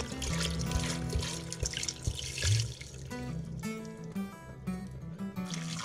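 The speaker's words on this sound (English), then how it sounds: "pour in the whole bottle of rice wine or sake, around 750 milliliters." A whole bottle of rice wine is poured into a cooking pot for Taiwanese ginger duck soup. A steady, gurgling stream of liquid splashes continuously at close range and fairly quietly, with the flow shifting partway through.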